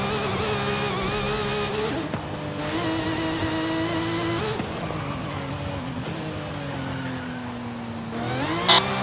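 Gunther Werks GW 911 Carrera C2 400R driving on a track, heard from inside as a steady engine drone that climbs through the revs with gear changes, loud and close with no talk.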